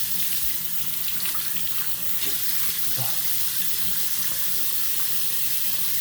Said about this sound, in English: I'm going to go ahead and rinse this out.